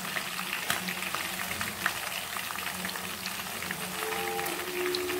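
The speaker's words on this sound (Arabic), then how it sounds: "نحمر الدجاج" Chicken pieces fry in oil in a pan, giving a steady, close sizzle with scattered pops and light stirring scrapes, no talk.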